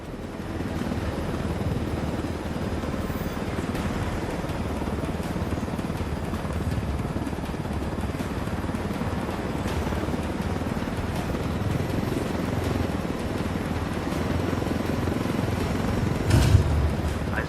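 A helicopter in Ghost Recon Wildlands drones steadily with a low, continuous rotor rumble and engine hum, held at a constant moderate loudness and swelling slightly near the end.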